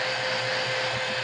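A 5-in-1 hair blower and curler runs on its blower setting, giving a steady, loud, close whooshing drone with an even motor whine throughout the short moment.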